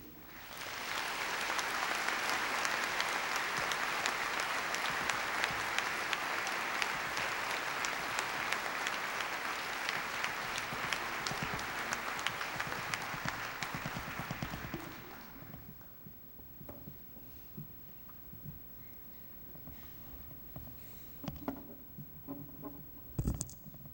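An audience at the 2008 Nobel Conference welcomes Professor J. Wentzel van Huyssteen with sustained, dense applause for about fifteen seconds, then it fades to scattered claps and quiet room noise.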